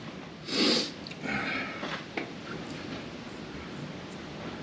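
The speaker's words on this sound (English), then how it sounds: "Pardon my sniffling." A person sniffles a couple of times close by, short wet nasal inhales over a steady background hiss.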